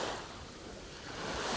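Small waves breaking on a stormy beach at Thassos, Greece, a steady broadband wash of surf with wind, fairly near and continuous, with no voices.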